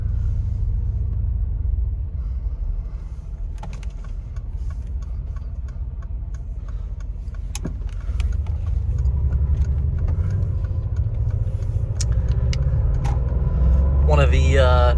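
A Mercedes G550 Squared gets put in gear and pulls away, its engine a steady low rumble throughout with faint ticking clicks over it. The drone swells slightly near the end.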